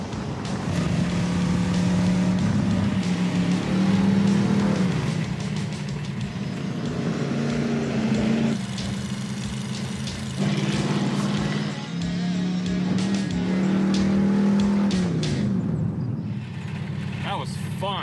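A restored Peterson Chieftain race car runs hard on a track lap, its engine droning loudly up close and rising and falling in pitch, with wind buffeting throughout.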